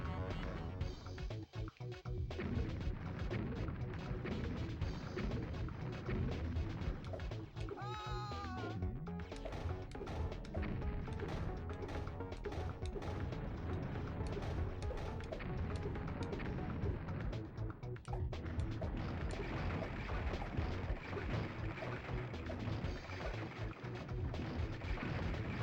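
Loud, dense video game action from Rampage 2: Universal Tour on the Nintendo 64, with tanks firing and buildings being smashed, booming blasts and crashing layered over continuous game music and effects.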